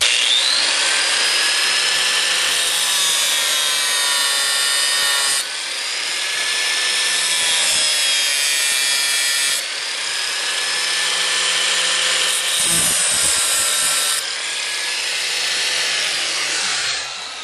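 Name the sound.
cutting a slot into bolts with a cutting tool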